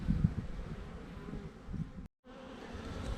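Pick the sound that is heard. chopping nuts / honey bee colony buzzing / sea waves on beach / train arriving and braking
honey bee colony buzzing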